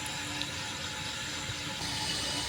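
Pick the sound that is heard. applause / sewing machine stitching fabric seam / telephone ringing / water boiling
water boiling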